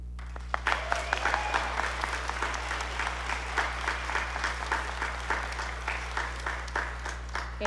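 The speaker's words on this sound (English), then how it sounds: "please join me in another round of applause for these wonderful students" A school concert audience gives a sustained round of applause for honored band students at a spring concert, a dense, even wash of many hands clapping over a steady low hum, with a few sharper claps standing out near the start.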